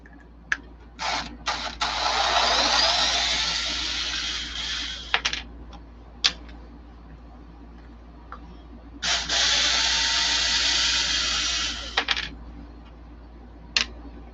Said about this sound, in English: So this I can jack up the screws with my wrench now, not my driver.